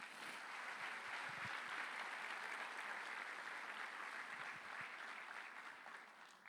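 A church congregation claps in sustained applause, a dense, even patter of many hands that holds steady before thinning slightly at the end.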